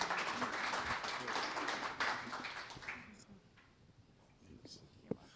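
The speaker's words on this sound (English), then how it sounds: "Let's give them a round of applause." An audience at a mental health town hall claps in a dense burst of applause that fades after a few seconds, leaving quiet room noise and a single sharp tap.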